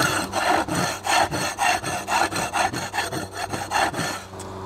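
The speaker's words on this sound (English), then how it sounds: "I'm able to scrape off a layer of mud and algae" Repeated scraping of mud and algae off a wooden board under water, a steady rasping rub in quick rhythmic strokes, close and loud, with no talking.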